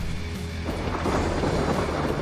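Rumbling thunder rolls in over steady rain in the video game ARK, building to a loud broad roar after a brief quieter start.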